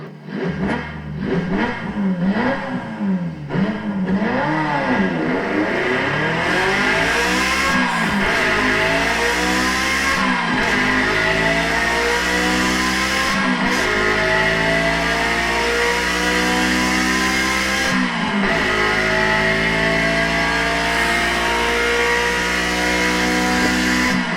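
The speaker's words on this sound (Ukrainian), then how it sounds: "Гучні звуки двигунів автівок, мотоциклів та мопедів" Loud engines revving and accelerating continuously, rising and falling pitch as vehicles speed past, with a harsh roar throughout.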